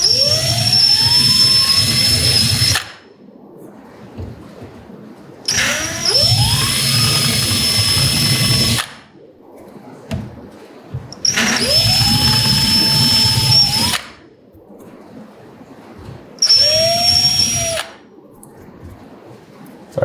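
A power drill with a larger bit bores into a clip-on handlebar for a 2018 BMW S1000RR, four loud whining bursts of about three seconds each separated by quieter pauses of workshop ambience.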